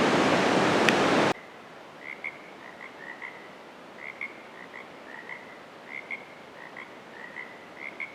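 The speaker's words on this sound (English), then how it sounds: "I hear a frog." After a brief burst of rushing noise, a frog croaks repeatedly in short, evenly spaced chirping calls against a quiet background on a forest trail at Mount Rainier National Park.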